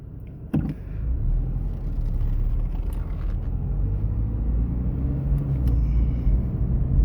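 A Scion FR-S cruises on a shakedown run after front-end work, a steady low road rumble and engine drone heard from inside the cabin, with a brief knock near the start and no talking.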